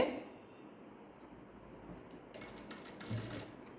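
A sewing machine stitches a decorative hand design, its quiet, faint whirring run of stitches coming in short bursts toward the end.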